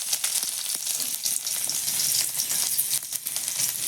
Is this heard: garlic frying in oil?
yes